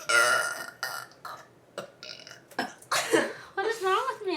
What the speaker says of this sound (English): What is wrong with me? I always burp good.